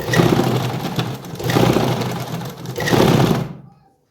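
An electric sewing machine runs in three short bursts of rapid whirring stitches while hemming a pant plazo with repeated double rows, each run separated by brief pauses before the motor stops abruptly.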